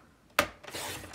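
A paper trimmer slices through gold foil cardstock sheets: a sharp snap as the blade engages, then a brief scraping rasp as it draws across, close and quiet.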